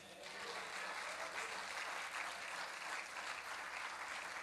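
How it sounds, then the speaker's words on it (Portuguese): A church congregation applauds in a steady, dense wash of clapping that continues throughout, distant and fairly quiet. "Pensei que você ia bater palmas"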